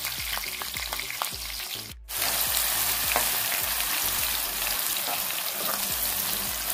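Sliced onions sizzle and crackle steadily in hot oil in a pan over a medium flame for a prawn fry, with stirring scrapes and taps throughout and a brief gap near the start.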